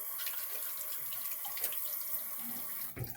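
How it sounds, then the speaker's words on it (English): Steady tap water runs under a faucet, rinsing soap residue off a badger hair shaving brush, a continuous close splashing stream that briefly breaks near the end. "Just rinse off all the little soap residue."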